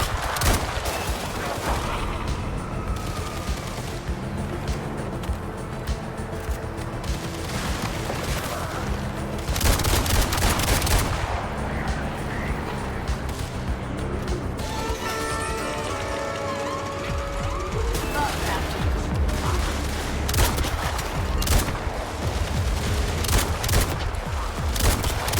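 Drum-magazine shotgun firing in the video game Resident Evil Requiem, booming shots in loud bursts over dense game music and effects, with a siren-like tone running throughout.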